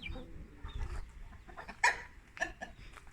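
Backyard hens, some of them broody, make quiet low clucks and murmurs close by, with two sharper, louder squawks breaking through near the end.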